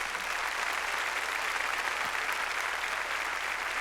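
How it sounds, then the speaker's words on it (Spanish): A church congregation claps hands during a worship service. The applause is a steady, dense wash that fills the hall evenly for several seconds with no other sound standing out. "dele palmas al Señor"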